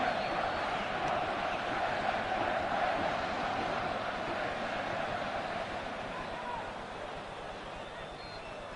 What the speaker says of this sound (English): This packed crowd totally immersed in this game.